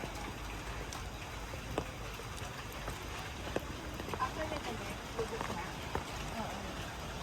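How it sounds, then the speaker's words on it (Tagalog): Heavy rain falling outdoors during a trip in Panglao, Bohol, a steady wash of drops with occasional sharper spatters, while people talk over it. "Lakas pa ng ulan."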